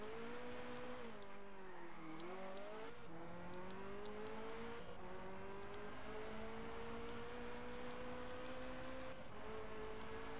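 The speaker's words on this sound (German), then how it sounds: "So macht das Auto so einen Lärm." A car engine in Just Cause 2 drones loudly and steadily throughout, its pitch dipping and then rising as the vehicle revs, with faint clicks above and no one speaking.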